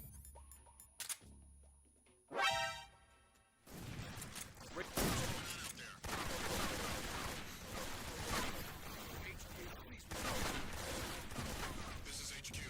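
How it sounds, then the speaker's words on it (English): In Metal Gear Solid 3, enemy soldiers fire from the ground. A few sharp early cracks and a ringing tone give way to a long, dense stretch of rattling shots and clatter, moderately loud and continuous. "They're trying to shoot at me from the ground, but it's not working."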